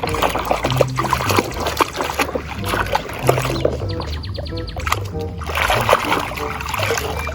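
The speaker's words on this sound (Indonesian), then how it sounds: "Mari kita cuci mainan berlumpur ini ya" Water splashes and trickles as muddy toy vehicles get washed, irregular close sloshing and dripping with a few soft bumps, with no talk.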